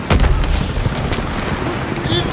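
A grenade explosion in the World War II shooter Call of Duty: WWII booms amid a continuous din of battle. Low rumbling bursts sit over steady gunfire and shouting voices throughout.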